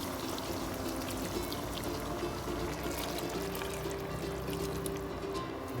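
Broth pours steadily into a cooking frog dish, a continuous close splashing and gurgling stream without pause or talk.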